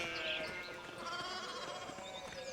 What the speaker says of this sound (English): Sheep are blocking the way.